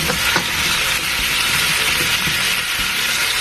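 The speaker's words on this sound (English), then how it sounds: "let this fry for about 20 seconds or so before adding your coconut milk and water" Metemgee ingredients frying in a pot: a loud, steady sizzle close up, with occasional stirring scrapes and knocks.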